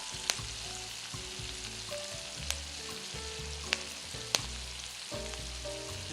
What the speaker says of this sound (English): We also like to saute the onions